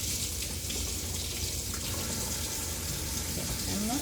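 Tap water running steadily over a bell pepper in a kitchen sink as it is rinsed, a close, continuous splashing rush that fills the whole stretch.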